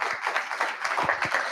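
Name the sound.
audience applause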